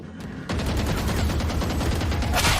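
Gunfire in Valorant, a dense burst of rapid shots starting abruptly and continuing loud and close, repeated cracks running together in a fast rhythm.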